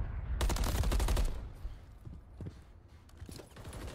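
Call of Duty League match gunfire, a loud rapid burst of automatic shots up front, then scattered quieter shots and clicks with muffled in-game sounds.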